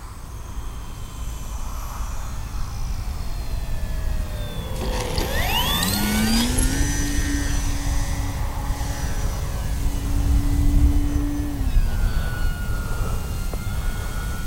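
An Arrows Hobby Bigfoot radio-controlled model plane passes close overhead, its electric motor whine rising then sliding down in pitch as it flies by, steady and fairly loud over outdoor wind noise.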